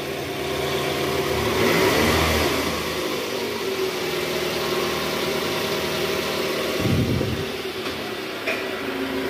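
A Toyota Estima engine with a rough-running fault idling with a steady drone, swelling briefly as it revs up, then settling, with another short rev near the end.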